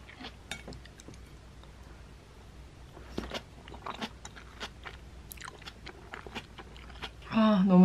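Food wrapped in pickled radish slices being bitten and chewed up close, with quiet crunchy bites scattered through a soft background and a louder clatter of dishes near the end.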